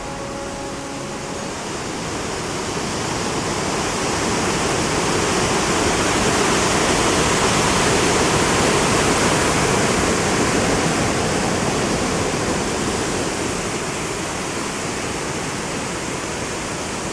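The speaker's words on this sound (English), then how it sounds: "the sight and the sound of the Cuyahoga River falling 68 feet onto the rock floor below was worth the wait" A waterfall on the Cuyahoga River drops 68 feet onto a rock floor at the Ohio Edison Dam, a steady, loud, close roar of rushing water that holds constant throughout.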